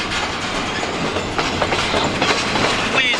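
A train rolls past close by with steady rumbling and clickety-clack wheel noise, and a faint high squeal rises near the end.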